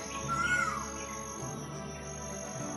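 A black bird resembling a crow, though smaller, gives a single rising-then-falling call near the start, heard against a steady background hum.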